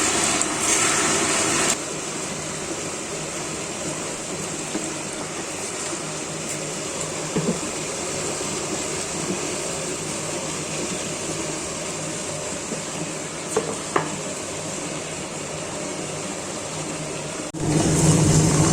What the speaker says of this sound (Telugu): కొంచెం వాటర్ వేసి గ్రైండర్ ఆన్ చేద్దాం.